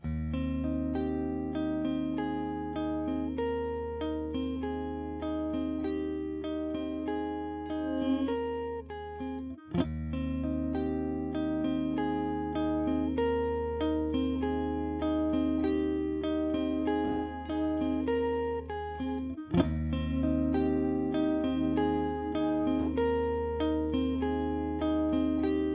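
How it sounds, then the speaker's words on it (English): A sustained, buzzy synth chord plays continuously, its tone thickening and thinning as a harmonic effect switches on and off, with two brief dropouts. "Could you hear the harmonics?"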